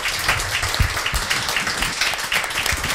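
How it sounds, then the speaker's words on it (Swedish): Warm audience applause after a panel talk, a dense patter of many hands clapping at a steady, fairly loud level with some nearby claps standing out. "Varm applåd."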